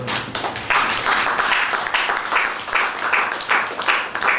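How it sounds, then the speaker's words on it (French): An audience at a lecture claps in rhythmic waves that swell and dip, dense and fairly loud. "Tu peux applaudir mieux que ça."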